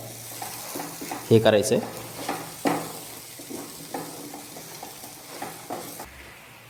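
A spoon scrapes and turns spice masala through chopped bottle gourd in a hot pan, with a steady light sizzle under a few loud stirring strokes near the start and a brief spoken line.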